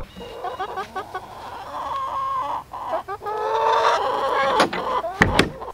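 Several chickens cluck and squawk close by, with overlapping calls rising and falling and a sharper burst of clucking near the end.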